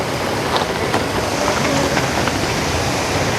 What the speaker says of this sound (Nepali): अहिले खोलाको आवाज सुनौ